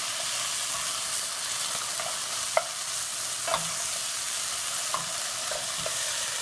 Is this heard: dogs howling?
no